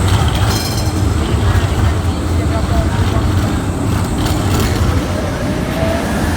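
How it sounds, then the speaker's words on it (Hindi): A Prague tram pulls up to a stop with a loud, close, continuous rumble of wheels and motor over a busy street background. "एक ट्राम तो फिर से आ रही है"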